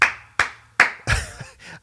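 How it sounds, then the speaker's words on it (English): A few sharp, close hand claps in an uneven rhythm, three distinct slaps followed by a softer, blurred burst of clapping, with no talking. "I got to clap to you."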